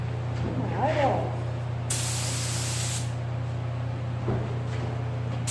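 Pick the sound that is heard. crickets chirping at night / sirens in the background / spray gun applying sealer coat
spray gun applying sealer coat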